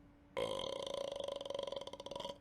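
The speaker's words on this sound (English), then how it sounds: "that was a good burp" A single long, loud, croaking burp that rattles on for about two seconds, close and otherwise quiet.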